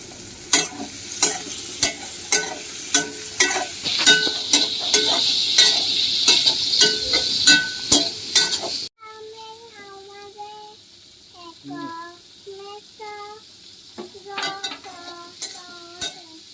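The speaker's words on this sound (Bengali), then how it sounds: "এবার এগুলোকে ভালো করে মিডিয়াম টু লো ফ্লেমে আমরা ফ্রাই করব।" Capsicum and yellow bell pepper frying on a medium-low flame with spatula stirring, close and steady sizzle broken by frequent scraping knocks, then a quieter stretch of lighter clinks and taps.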